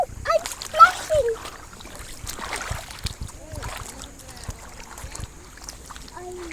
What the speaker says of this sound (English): Oh, I'm splashing.